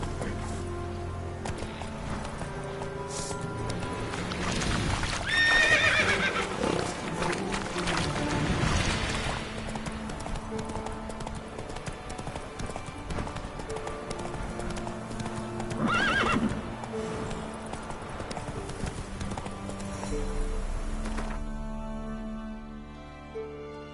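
In The Witcher 3, the horse Roach gallops in a steady clip-clop rhythm of hooves, with a loud neigh partway through, over ambient game sound that continues throughout.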